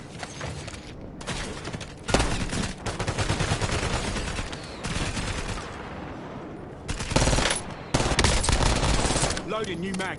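Rapid bursts of automatic gunfire in Call of Duty: Warzone, loud and dense, with sustained volleys and a few pauses over about ten seconds, no talk.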